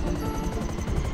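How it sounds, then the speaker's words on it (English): A helicopter in the video game GTA 5 sounds as a steady, loud rotor drone with a low rhythmic thump throughout, close and continuous with no talk over it. "Back in my helicopter. I land on here for now."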